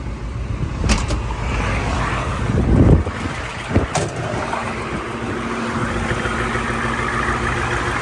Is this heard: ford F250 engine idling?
yes